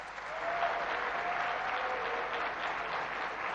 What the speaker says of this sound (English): And please give President Ruto and President Macron a warm round of applause.